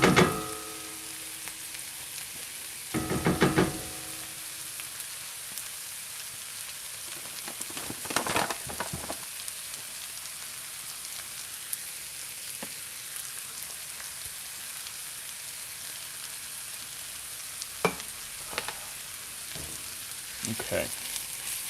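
Garlic frying in a pan for a mushroom gravy, a steady light sizzle with a few louder scrapes and clatters from stirring, heard up close without talking.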